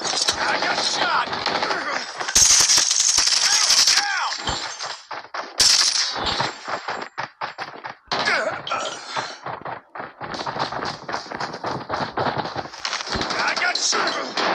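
Rapid gunfire and impacts from a Call of Duty Mobile match with akimbo Dobvra pistols, loud bursts and shots packed densely across the clip amid game effects, with voices calling out over the action.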